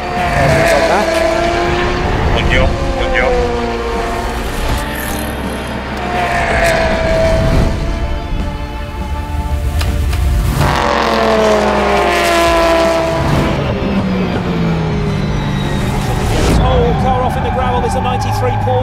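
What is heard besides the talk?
race cars at Le Mans, including a Porsche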